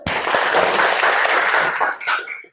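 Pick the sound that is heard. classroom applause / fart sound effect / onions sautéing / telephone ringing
classroom applause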